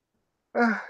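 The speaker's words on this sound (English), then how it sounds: "I'm sorry I yawned." A single tired yawn lets out a breathy, voiced exhale that starts abruptly after half a second of silence and trails off, close and fairly soft.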